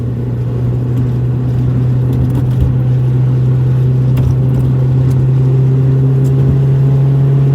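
Inside a loud Toyota MR2 Spyder, a warmed-up engine drones steadily with strong low rumble and road noise as the car accelerates onto a freeway, continuous and close throughout with no pause.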